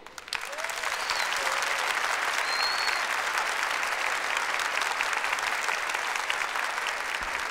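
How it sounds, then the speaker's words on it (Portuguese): A church congregation claps steadily throughout, a broad even wash of many hands at moderate level, with a few faint voices calling out above it. "Aplauda a tua igreja."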